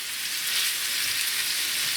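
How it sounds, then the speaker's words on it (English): Steady, close sizzling and crackling of beef frying in a hot pan, a constant hiss with no talking. "There it is, the instant sizzle."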